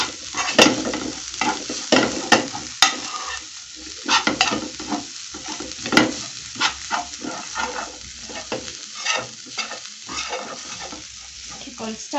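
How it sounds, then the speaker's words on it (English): Samosa filling fries in a pan while being stirred steadily, producing a continuous sizzle broken by frequent scraping and clinking utensil strokes, close and fairly loud with no speech. "Keep on stirring"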